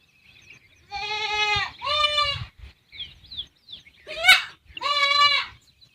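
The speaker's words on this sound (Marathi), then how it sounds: "बघा शेळ्या किती ओरडत आहेत" Several goats bleat in separate calls on a goat farm, with short pauses between them and one sharper, higher cry near the end; the calls are fairly close and clear.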